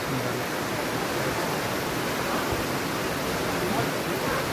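Dharkhora waterfall at Chikhaldhra, Amravati, pours in a constant, close, full-bodied roar of rushing water that never lets up.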